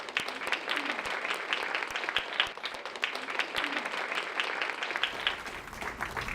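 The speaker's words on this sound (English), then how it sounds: "Let's give the 11 leaders another round of applause." Sustained crowd applause at a 2019 gala honoring 11 leaders, a dense wash of many hands clapping in a large room, with a few sharper nearby claps, steady throughout and tapering slightly at the end.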